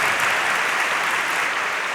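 Audience applause at a World Cubing Association 3x3 final, a steady dense wash of many hands clapping from a crowd, sustained and even throughout without speech.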